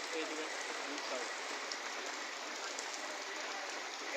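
Rain pours steadily onto a street at Mirpur 10, a dense, even hiss that fills the scene without pause and keeps a constant level throughout.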